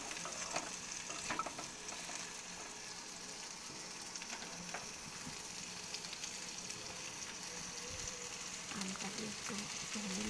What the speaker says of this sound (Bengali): আমটাকে একটু তেল করে নেবো, ভেজে নেবো